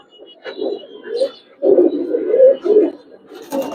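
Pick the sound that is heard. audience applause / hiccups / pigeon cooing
pigeon cooing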